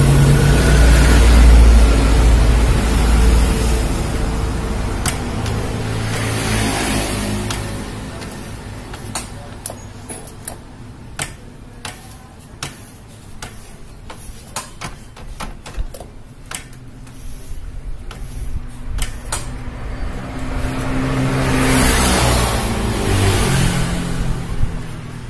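A Yamaha Vixion motorcycle engine idles and revs in first gear while the clutch is slipped, swelling up and dropping back, with a patch of rapid ticking clatter through the middle, close and loud.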